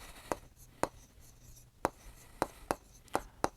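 Chalk or marker taps out numbers on a classroom board during a class 7 maths lesson on ratios, about eight sharp, close strokes at uneven intervals in a quiet room.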